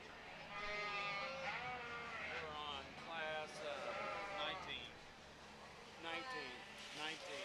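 Suffolk ewe lambs bleat repeatedly at a breeding sheep show, with overlapping cries rising and falling in the ring while an announcer talks over the PA.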